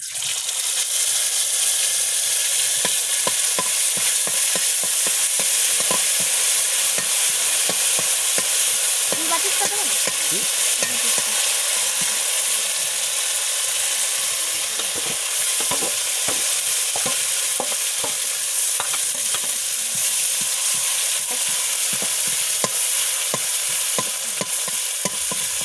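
Bay leaf and cumin tempering sizzles and fries in a wok while a spoon scrapes and stirs in frequent quick strokes, a steady close hiss running throughout with no voices.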